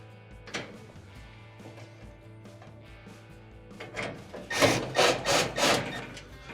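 Phillips head screws are driven back into a Frigidaire oven by hand, with faint scuffs early on and then a close run of four or five rasping, rhythmic turns near the end.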